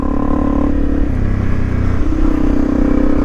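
A Honda CRF 250 Rally motorcycle rides down a narrow tractor lane, its engine loud and close in a steady drone that shifts in pitch as the rider works the throttle, with no talking.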